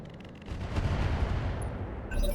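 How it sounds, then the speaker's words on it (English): Mech weapons firing in the RogueTech BattleTech video game, an Apollo mech opening fire on a Wolverine: a loud sustained burst of booming gunfire rumbling for a couple of seconds, ending in a renewed blast with metallic tones. "So the Apollo will position here. And we'll fire on that Wolverine."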